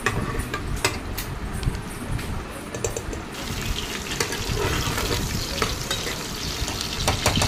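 Onions and curry leaves fry loudly in hot oil for a Sunday mutton curry, a dense crackling sizzle broken by scraping stirs with a utensil against the pan.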